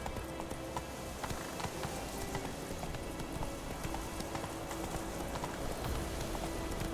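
Horse hooves gallop in The Witcher 3, a rapid, steady clip-clop rhythm running throughout, with faint rain-like patter and soft ambient game sound beneath.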